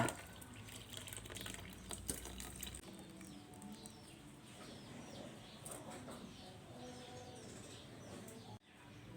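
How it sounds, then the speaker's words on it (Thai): Pickling brine poured into a jar over cucumbers, a steady close liquid pour and trickle with faint bird calls in the background. "เพ้นก็สิเทน้ำดองค่ะ ให้เขาถ่วมเลยเด้อจ้า ถ่วมแตงอ่าของเฮาเลยเด้อค่ะ"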